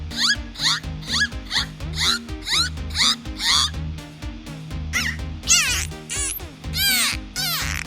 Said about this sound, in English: This is a dolphin.